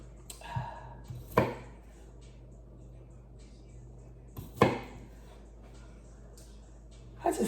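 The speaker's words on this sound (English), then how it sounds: "I'm cutting them in fours, dumping them in." A knife chops seafood soup ingredients on a board in a few sharp, separate thuds spaced seconds apart, fairly close, over a quiet room hum.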